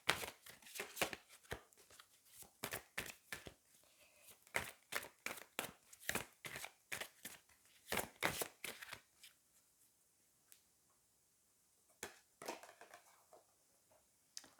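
Angel oracle cards are shuffled in quick bursts of soft slapping and riffling, close and quiet, with short pauses between rounds.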